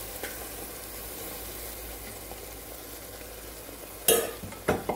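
Ground masala paste of poppy seeds, coconut and onion pieces fries in a pan with a steady low sizzle, then a couple of loud spoon scrapes and clanks against the pan near the end.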